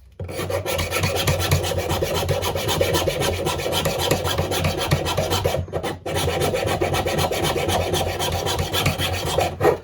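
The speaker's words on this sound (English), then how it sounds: "Good thing about plastic or this PVC, it's very easy to file" Steady rasping of a hand file on PVC plastic while trimming a part to fit, a continuous close, loud scraping that carries on with only one brief pause partway through.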